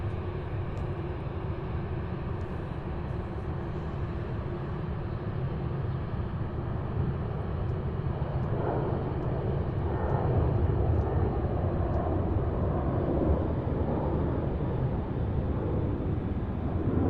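A UPS cargo jet departs Louisville International Airport, a steady roar of jet engines heard from a distance that swells slightly as the aircraft climbs away, with no voices.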